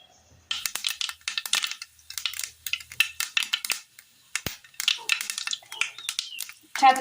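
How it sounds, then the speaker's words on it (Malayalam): Mustard seeds spluttering in hot oil in a pan for a steamed Kerala snack; dense crackling pops come in irregular bursts throughout, close and fairly loud, with a brief pause in the middle. "ഇതിലേക്ക് കടുക് ഇട്ട് കൊടുക്കാം."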